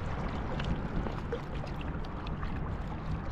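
A small outboard motor on a Pisces Predator kick boat cruises at part throttle into the wind, giving a low, steady drone mixed with water wash and splashing.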